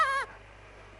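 An injured fawn call lure from a hunting video game: a single short, high, nasal bleat lasting a quarter second, followed by quiet background.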